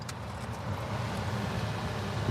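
Car air conditioning runs on a hot 95-degree day, giving a steady low fan roar and hum inside the vehicle, constant and fairly loud throughout with no talking.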